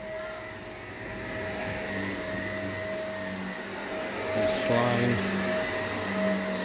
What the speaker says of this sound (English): We're just pre vacuuming right now in the rooms